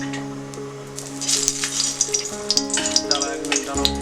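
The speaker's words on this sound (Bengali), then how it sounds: "এরপর কড়াইয়ে তেল দিয়ে করলাটা লাল করে ভাজতে হবে।" Stuffed bitter gourd (karela) fries in oil in a wok, giving a steady close sizzle with crackling pops that grows busier after the first second, over a low background hum.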